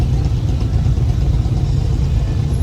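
Deep, steady engine idle rumbles close by with a constant low drone and no pauses, like motorcycles waiting in traffic.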